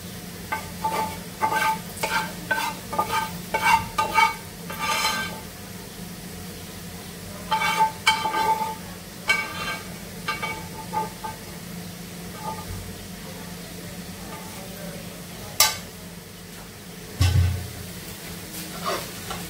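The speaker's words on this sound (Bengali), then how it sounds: "পেঁয়াজও দিয়ে দিচ্ছি একটু ভাজির সঙ্গে" Onions frying and being stirred in a pan with other fried vegetables, a steady sizzle broken by repeated scraping stirs, with a low kitchen hum underneath.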